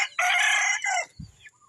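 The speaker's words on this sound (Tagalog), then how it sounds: "Maliliit na manok lang yan." A small bantam rooster in a backyard gives one sharp, close, high-pitched crow lasting about a second, followed by a brief low thump and quiet.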